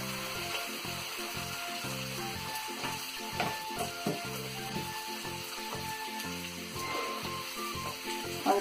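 Bhatura, an Indian fried bread, puffing and being flipped in hot oil, giving a steady close sizzle with crackling bursts and a few light utensil knocks over background music tones.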